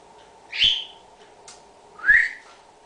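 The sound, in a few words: pet bird whistling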